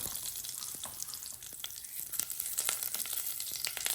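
Curry leaves crackle and sizzle in hot oil with cumin, mustard seeds and fenugreek for a Batticaloa-style milakuthani kulambu, a dense run of sharp pops and spatters over a steady fry hiss, close and without talk.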